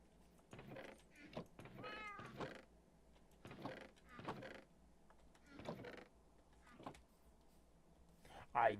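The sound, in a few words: cat meowing in the video game Minecraft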